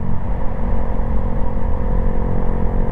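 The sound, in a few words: 125 cc small sport touring motorcycle engine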